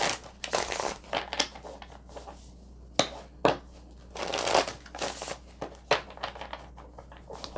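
Tarot cards being shuffled by hand: a series of crisp riffling and flapping bursts with soft slides between them, close and fairly loud, with no voice.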